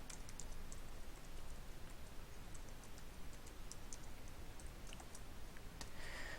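Someone types on a computer keyboard, quiet irregular key clicks in short runs over a steady low background hum, close but faint, with no talk.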